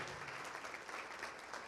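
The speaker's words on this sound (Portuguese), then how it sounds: "Vamos aplaudir mais ao nome de Jesus." A church congregation applauds in the name of Jesus during a sermon. The clapping is steady and fairly soft, a continuous crowd patter through the whole moment with no speech on top.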